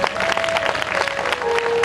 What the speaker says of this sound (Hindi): जोरदार ताली एक बार उनके लिए बजाइए